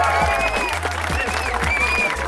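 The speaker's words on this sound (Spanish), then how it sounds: "¡Aplausos por los chiquillos!" Crowd at a League of Legends gathering in Temuco clapping for the boys, a short burst of applause mixed with cheering over thumping background music.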